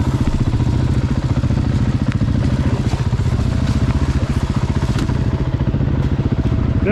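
Husqvarna or KTM dirt bike descending a very slippery trail, its engine a steady, close, rough mid-pitched drone with a rapid pulsing chatter throughout and no talk over it.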